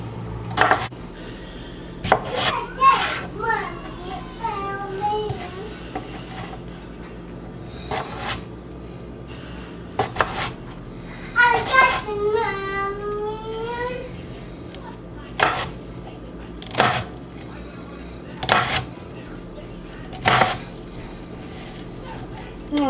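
Knife dicing food on a wooden cutting board in a home kitchen, sharp isolated chops spaced a few seconds apart, mixed with a voice and adult talk.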